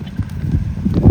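Hooves of a lame horse walking, a close run of uneven, muffled clip-clop steps with some wind noise, and no talk.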